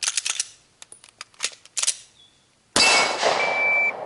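A handgun in a timed drill: a series of sharp metallic clicks and clacks as it is loaded and racked, followed by a single loud, close gunshot with a ringing tail.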